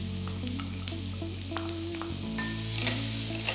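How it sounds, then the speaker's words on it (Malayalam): Sliced large onion sizzling and frying with spices in a pan for shahi paneer, a steady close hiss with light stirring scrapes, no speech. "ഞാൻ ഇവിടെ എടുത്തേക്കുന്ന ഒരു വലിയ സവോള സ്ലൈസ് ചെയ്തത് അതിനകത്തേക്ക് ആഡ് ചെയ്യാം."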